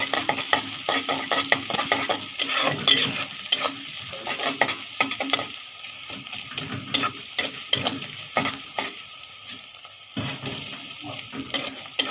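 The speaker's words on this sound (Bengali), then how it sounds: "পেঁয়াজ আর মরিচটাকে একটু করে আমি লাল করে নিই" Chopped onions and green chilies fry in oil in a pan for a noodle dish, giving a loud, continuous sizzle broken by repeated clattering stirs of a spatula against the pan.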